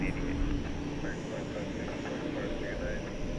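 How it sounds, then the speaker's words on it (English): A Cathay Pacific jetliner taxiing at DFW Airport at night, a steady, broad engine rumble and whine at moderate distance, continuous through the moment with no breaks. "As the Cathay jetliner pulls in, going the other direction."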